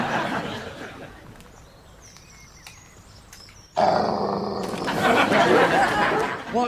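Dogs in a British countryside comedy scene growl, first a low steady growl, then a louder burst of snarling and agitated growling that builds toward the end, with no speech over it.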